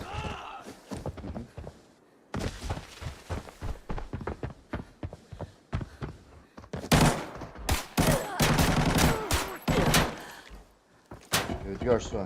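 Gunfire in the video game Arena Breakout, with bursts of rapid shots and sharp cracks arriving in irregular clusters, some loud and close, under and between a voice talking.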